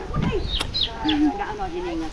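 A chicken clucks and calls several times at close range, short squawks and a drawn-out cluck, with people talking nearby.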